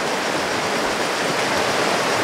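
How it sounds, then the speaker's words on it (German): Strong river current rushing after a sudden rise in water, along a stretch of the Magistrala coast road toward Albania; a steady, dense broadband roar with no pauses and no voices. "Hier ist plötzlich die Strömung sehr extrem hoch geworden."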